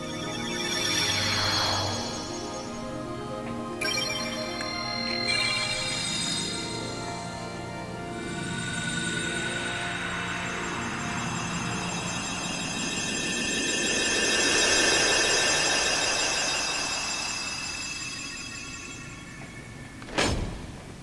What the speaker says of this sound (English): time to seal the keyhole